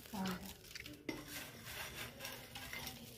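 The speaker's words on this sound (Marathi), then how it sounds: "आता आपण ह्याच्यात तळलेली प्याज घालूया।" Fried onions tipped into a pan of chivda mixture, bringing soft scraping and clinking of a spoon against the metal pan with light stirring rustle, one sharper knock partway through, fairly quiet and with no talk.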